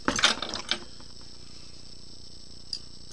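A wrench works a nylock nut down a threaded rod during a solder stencil printer build, giving a cluster of quick metallic ratcheting clicks up close, then near silence with one faint click near the end.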